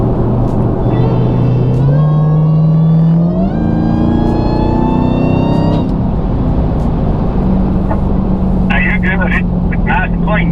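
A Dodge Hellcat Challenger engine revs at part throttle, a loud, close, rumbling roar that climbs in pitch in steps and then settles into a steady drone.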